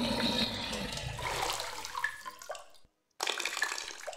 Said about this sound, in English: Water the plant.